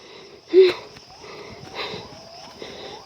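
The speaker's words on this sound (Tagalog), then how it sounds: "Hinihingal ako." A hiker heaves and wheezes hard, out of breath while descending a mountain, with one loud gasp and then steady labored breathing up close.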